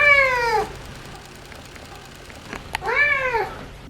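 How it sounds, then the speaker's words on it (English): Ragdoll cat meowing nearby, two clear, drawn-out descending meows separated by a couple of seconds of quiet room noise with faint shuffling. "we sure have a lot of clips of him meowing"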